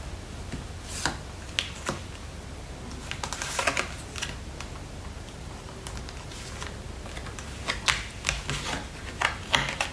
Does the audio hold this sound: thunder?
no